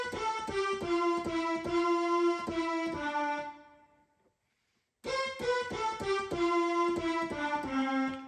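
A Yamaha PSR-EW425 keyboard plays a bright, evenly pulsing melodic pattern with one note detuned downward. The pattern stops for about a second of silence, then the same sequence resumes at a moderate volume with no voices.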